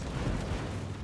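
Rumbling high-explosive shell fire from a Tier 10 Conqueror battleship in World of Warships, a brief, dense, booming salvo at moderate loudness with no voices.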